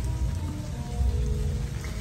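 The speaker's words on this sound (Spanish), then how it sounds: "ya hacía falta que nos cayera una lluviecita" Rain pours steadily onto a street in La Piedad, Michoacán, a continuous dense hiss of drops that stays close and even, with no voices.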